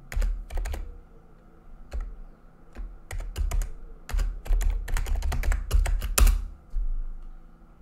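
Fingers type a password on a computer keyboard at the Windows 10 logon screen, with close, crisp keystrokes in irregular bursts and short pauses between them and no talk.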